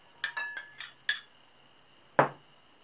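A spoon clinks sharply against a bowl while canned beans are scooped into a meat salad: a quick series of bright metallic taps, a pause, then one louder knock.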